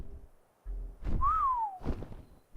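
A single whistled command in the ARK video game while taming a Quetzal, one clear rising then falling tone lasting about half a second, set among soft thuds and game noise, with no talk.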